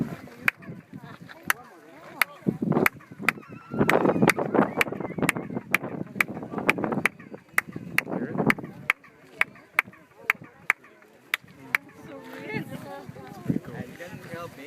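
Sharp hand claps ring out in a quick, uneven rhythm, mimicking chirping birdsong, with a voice talking underneath and a low rumble throughout.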